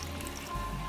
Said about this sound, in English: So I'm gonna add the coconut milk onto my rice.